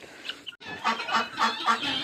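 A group of ducks in a barn calls out in a rapid run of loud, nasal honks and clucks, close by and repeating with no talking.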